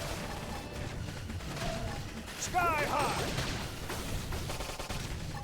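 Gunfire during combat in the Xenoblade Chronicles X video game, a burst of rapid shots and impacts mixed with game music and effects, with a character's voice calling out over the action.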